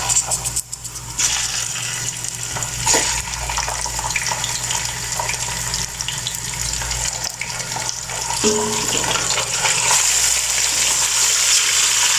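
Chicken tossed into browned onions in a pan for chicken chana pulao, a loud continuous sizzle with occasional clatters and stirring scrapes throughout.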